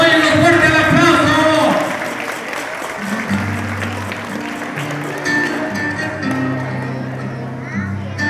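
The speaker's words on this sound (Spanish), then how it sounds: "¡Fuerte el aplauso!" Loud applause from children and parents at a Tuxpan primary school event for Día de Muertos catrín presentations fills the first two seconds, then fades under music and crowd chatter.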